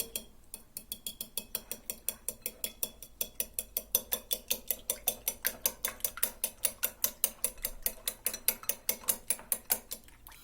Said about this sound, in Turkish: Yumurtalarımızı bir çatal iyice çırpıyor